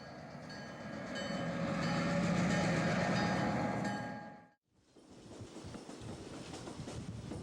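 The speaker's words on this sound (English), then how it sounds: "This switcher is northbound off the Iron Mountain, now known as the Oak Hill branch or the DeSoto sub" A railroad switcher locomotive rolls northbound on a Missouri Pacific branch line, a steady rumbling pass with rail clatter heard from trackside, briefly dropping out before a rougher, noisier rolling sound resumes.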